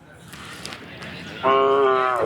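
Kangeyam cattle at a cattle market: a single loud, drawn-out moo bursts in partway through, following a short stretch of quiet background bustle.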